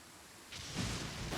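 Heavy rain and thunder in Genshin Impact, a soft hiss of rain that swells into a low rumbling thunder roll, brief and moderately loud.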